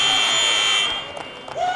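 End-of-quarter buzzer at a Sweden vs Germany wheelchair rugby game during Paralympic qualifying, a loud sustained tone for about a second that drops away into arena murmur.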